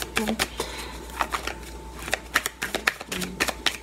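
Tarot cards being shuffled and cut by hand, a run of crisp riffling bursts and soft slaps close by, with faint background noise between the strokes and no voice.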